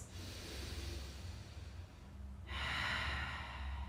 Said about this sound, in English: in through the nose and out through the mouth. A nice long breaths.